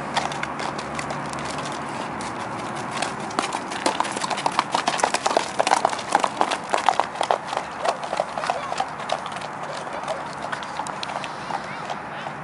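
A pacer horse ridden with no bit clip-clops steadily, the hoofbeats growing louder and faster mid-clip then fading, close and crisp, with people talking faintly in the background.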